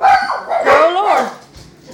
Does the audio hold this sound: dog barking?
yes